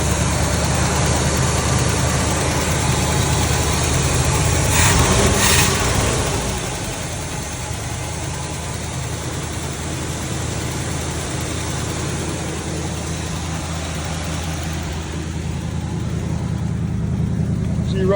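A 1970 Chevrolet C20 truck engine idles steadily right after a cold start, a loud continuous low rumble with a brief rise in revs early on, then settling into an even idle.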